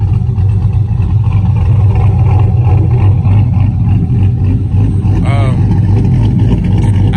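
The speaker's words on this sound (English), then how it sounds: "as you can see from the clip of his truck with the Corsa on it" Truck fitted with a Corsa exhaust revs hard, producing a loud continuous growling engine roar with rising and falling throttle, close and dominant throughout, and a brief higher whine midway.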